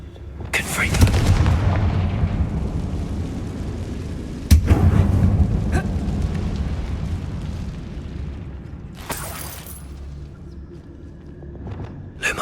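In the video game Hogwarts Legacy, the Confringo fire spell goes off in loud booming blasts, with a sharp burst near the start and another midway, each trailing into a long rumbling decay, and another blast lands toward the end.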